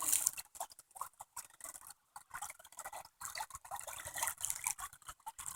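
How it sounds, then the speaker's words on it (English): Babbling brook in the Pier Cove nature preserve, Michigan, with water patter and trickling over stones running steadily close by, broken by brief gaps, with no talking. "It's the babbling brook."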